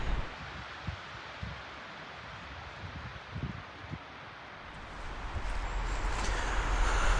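Wind gusting through dark woods, a steady broad rush with low buffeting thumps against the microphone, swelling louder toward the end; no talk.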